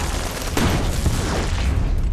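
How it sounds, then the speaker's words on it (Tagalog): Gunfire and a grenade explosion in an Iraq war film scene: a dense, loud, continuous roar of shots and blast noise. "Umulan ng bala, may naghagis ng granada."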